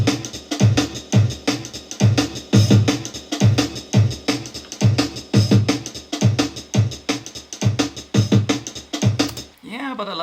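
An EMU Ultra sampler plays a drum break at its original settings: a dense, driving groove of kicks, snares and bright cymbals, loud and continuous for about ten seconds before cutting off.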